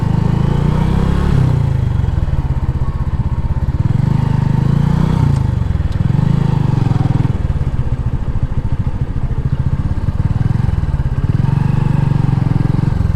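A motorcycle engine runs loud and close at the gate of Saidpur airport, a steady throbbing drone with rough, pulsing variations from start to finish.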